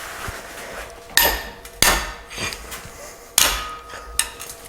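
A metal tool works on a bolt on an engine cylinder head during a head gasket replacement. Four sharp metallic clanks ring out at irregular intervals over quiet rustling and small scrapes.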